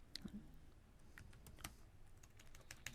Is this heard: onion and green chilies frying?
no